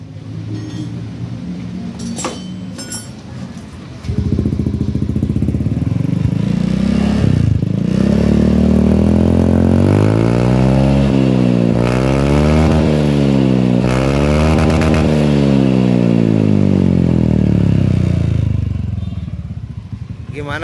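A Honda Beat motorcycle engine fitted with a new muffler starts up after about four seconds, then revs loudly up and down in repeated rising and falling sweeps before settling, with some talk at the start.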